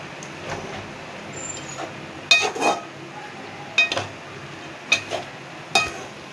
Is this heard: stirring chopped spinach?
yes